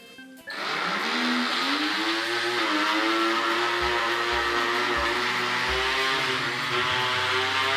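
A model railway turntable driven by a small motor controller spins up after a brief click, leaving a loud, steady motor whir that holds on for several seconds with no voices.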